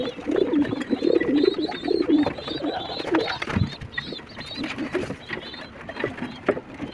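Rock dove pigeons coo repeatedly inside a loft, soft low rolling calls overlapping close by, with light shuffling and background rustle throughout.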